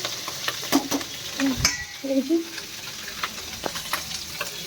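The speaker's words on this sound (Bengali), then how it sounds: "বোম ফাটার মতো ফুটছে মাছগুলো আছে। মুড়ো ভাজা হচ্ছে" Fish and fish heads fry in hot oil, spluttering and popping with loud sharp crackles and bursts over a steady sizzle, heard close up with no talk.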